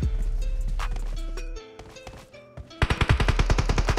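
Bursts of rapid video game gunfire crackle in quick succession, with a short lull mid-clip before a dense, loud volley of shots resumes.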